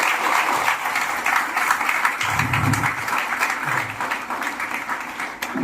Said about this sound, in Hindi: चाहेंगे कि जोरदार तालियों से स्वागत हो।